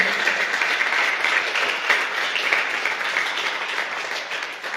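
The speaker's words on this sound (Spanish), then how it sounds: "Da un aplauso fuerte al Rey." A church congregation bursts into loud, sustained applause for the King, dense clapping from many hands filling the room evenly for several seconds.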